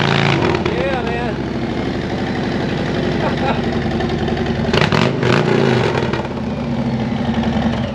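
A 2021 Harley-Davidson Street Bob motorcycle engine runs close by with a steady low rumble, briefly swelling louder in a short rev around the middle, while someone talks over it.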